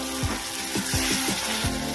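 Spice paste mixed with beaten sour yogurt sautéing in a pan for a Bengali aar fish curry, a dense close sizzle with rhythmic scraping strokes of a spatula about every half second.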